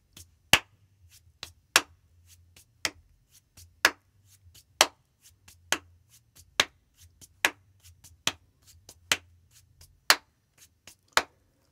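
Hands rubbing and clapping in a children's hand-clapping game: about a dozen sharp, close claps in a steady rhythm, roughly one per second, with soft rubbing and shuffling between them and no talking.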